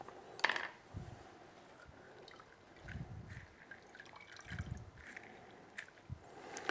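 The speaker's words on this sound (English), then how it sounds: "now we also need the juice of the lemon" A lemon half is squeezed for juice, giving faint wet squelches and drips in a few short bursts, quiet against a still kitchen background.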